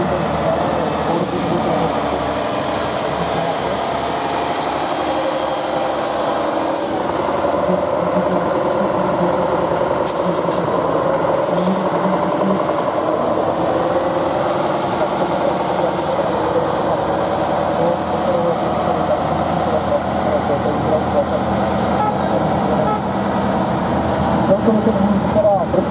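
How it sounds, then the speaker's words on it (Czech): A Tatra truck engine drones steadily at a truck trial competition in Mohelnice, a continuous loud rumble that rises and falls slightly as the vehicle works over the ground, heard under a commentator talking the whole time. "poslouchejte ten motor a sledujte tu lehkost, jakou ta Tatra proplouvá na zemí"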